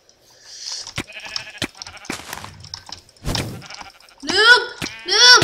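Sheep bleats from a Minecraft Mineplex game sound out twice near the end, loud and close, after scattered clicks and game noises.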